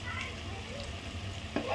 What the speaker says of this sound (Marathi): 10 मिनिटं कांदा भाजून घ्यायचा.